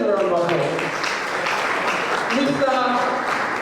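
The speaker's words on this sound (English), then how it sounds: "Please let me round of applause." Audience applause at a professional conference, a continuous spread of clapping heard beneath a speaker who talks over it throughout.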